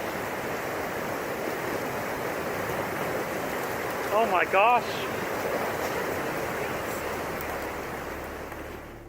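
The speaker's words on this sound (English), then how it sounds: "A massive wave of ice and water comes rushing down the river and under a bridge" A massive wave of ice and water from a dam failure rushes down a river and under a bridge, a loud, unbroken roar that holds steady throughout; a voice exclaims briefly midway.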